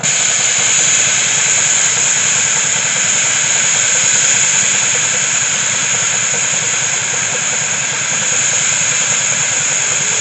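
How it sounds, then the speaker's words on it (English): A steam engine at a gas and steam engine show with a full head of steam, giving a loud continuous hiss with a bright high tone held steadily throughout, no talking. "got a head full of steam up here"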